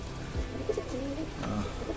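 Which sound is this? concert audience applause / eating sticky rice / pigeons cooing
pigeons cooing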